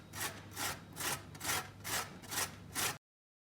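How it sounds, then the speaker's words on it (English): Fresh coconut is scraped against a grater in seven even, rhythmic rasping strokes, close and fairly quiet, lasting about three seconds before silence. "Grate the coconut."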